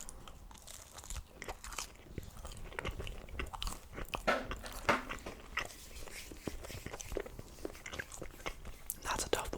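Crunchy bites and wet chewing of Papa John's pizza come close and soft in an ASMR mukbang, with repeated crisp crunches and quiet whispering throughout.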